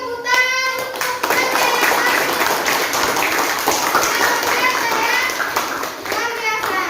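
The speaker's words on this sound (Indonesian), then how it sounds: "Beri tepuk tangan untuk" A classroom of students claps for a student group, a dense, steady patter of many hands lasting several seconds, with a voice and brief talk at the start and end.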